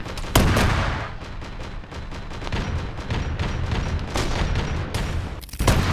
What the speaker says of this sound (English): I'm hearing plasma firing